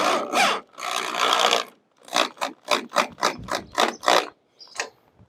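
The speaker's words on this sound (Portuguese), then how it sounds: "Arrochar os 4 parafusos" Four screws are tightened on a blue antenna with a ratcheting tool, giving a fast run of close, sharp rhythmic clicks after a longer grinding stretch, then a brief pause and a final click, with no voices.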